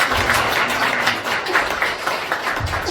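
Applause from a church audience for a pastor after a lecture, a dense, steady wash of many hands clapping that fills the whole stretch at a fairly loud level.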